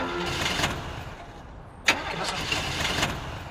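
A car engine cranks and catches, then runs at a moderate idle with a few small rises in revs. A sharp knock cuts in near the middle, and faint background noise sits under it.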